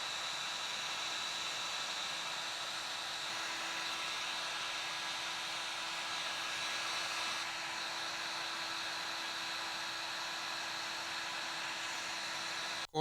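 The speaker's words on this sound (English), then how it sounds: "So let's hit it with the heat gun and get it really cleaned up." A heat gun blows a steady, even hiss of hot air over 3D puff embroidery on a New Era hat, continuous and fairly quiet with no talking.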